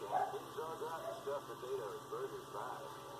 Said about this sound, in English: She barking like that for?